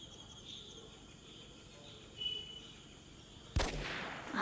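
A single sharp gunshot from a hunting video game rings out near the end, a loud broadband crack with a short tail. Before it comes a low ambient backdrop with faint insect or bird-like chirps.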